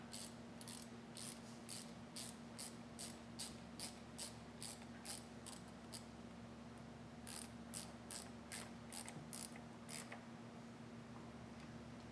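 A ratchet clicks in quick bursts while snugging a hose clamp on a cold air intake of a 2014 Chevy SS, two runs of rapid close clicks separated by a short pause over a steady low hum.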